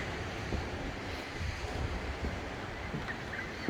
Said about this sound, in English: just listening to the seagulls and the ocean